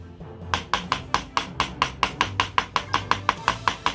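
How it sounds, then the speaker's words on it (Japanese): Pitted umeboshi pickled plums pounded with a kitchen knife on a cutting board, a steady run of about eighteen sharp, evenly spaced chopping knocks, close and crisp, with no talking. "梅干しは種を取り除き包丁で叩きます。"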